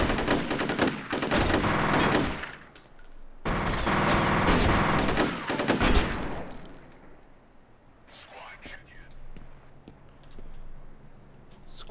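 Rapid automatic gunfire in the first-person shooter F.E.A.R. rattles loud and dense in two long bursts with a brief gap, then gives way to a quieter stretch with faint echoing sounds.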